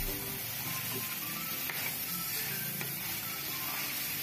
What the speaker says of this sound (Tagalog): Halu-haluin natin ulit para maluto lahat ng karne.